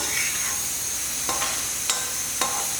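Goat brain fries in a tomato and onion masala, a soft steady sizzle close by with a few sharp spoon taps and scrapes against the pan as it is stirred.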